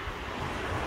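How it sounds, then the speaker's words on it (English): Wind blows outdoors in a capital city, a steady, close rush of noise buffeting the microphone for under a second with no voices. "Boy, windy."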